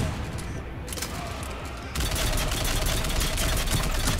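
Burst-fire gunshots in Mass Effect 3, a dense crackling rattle of rapid shots that grows louder and more continuous halfway through, close and harsh.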